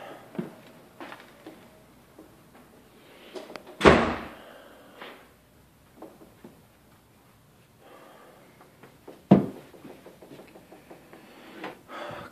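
A house front door in a split-level home bangs shut twice, sharp loud slams several seconds apart amid quieter handling knocks and room noise.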